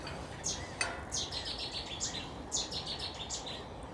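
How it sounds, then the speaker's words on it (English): Ring-necked parakeets passing overhead give a series of sharp, shrill squawking calls, repeated in quick bursts against an outdoor background with no talking. "it's fair to say the ring-necked parakeet going over our heads"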